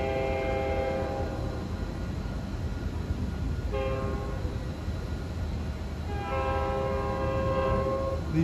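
Rumbling MBTA commuter rail train from Newburyport to Boston rolls past steadily while a horn sounds in several long blasts, loud and near.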